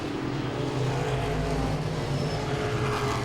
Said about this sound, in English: as Belluzzo looks on the outside of Kincaid, now dives it down low on the inside at the exit of turn 4